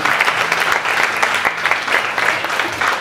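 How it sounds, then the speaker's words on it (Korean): A church congregation claps together in a sustained, loud burst of applause, dense and continuous with a few sharper accents. "하나님의 영광의 박수를 드리십시오."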